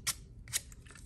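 Stickers peeled off their paper backing while decorating a gable box craft, two quick crisp tearing rasps about half a second apart, close and fairly quiet.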